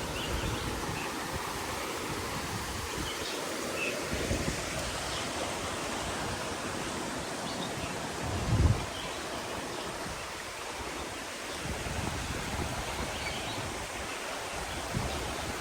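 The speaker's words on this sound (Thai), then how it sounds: "ลมพัดอีกแล้วนะ" Wind sweeps steadily through a deep forest beside a waterfall, a continuous broadband rush with the falling water's roar blended in and one brief low thump midway.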